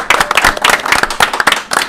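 Close, loud clapping from a small audience honouring the players of a live role-playing game stream, individual hand claps distinct and quick in an uneven, lively rhythm.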